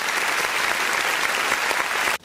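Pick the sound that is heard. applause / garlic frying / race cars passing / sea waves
applause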